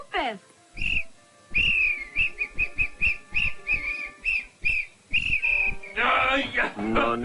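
A magic whistle in a cartoon is blown in a rapid series of short, shrill toots, some held a little longer, then a busier warbling burst at the end.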